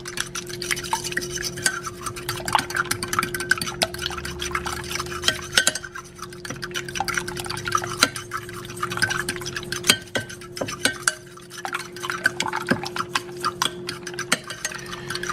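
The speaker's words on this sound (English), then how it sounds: "Just get a fork and just scramble and mix them all up." Eggs being scrambled with a fork in a bowl, heard as a steady, close, rapid ticking and clinking of metal against the dish that runs on for a long stretch with brief pauses.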